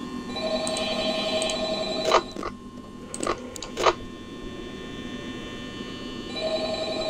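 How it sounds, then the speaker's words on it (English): Telephone ringing in the Five Nights at Freddy's video game, a soft electronic trill repeating at the start and end over a constant low hum, with a few short thumps and clicks between. "Listen to the phone call, guys."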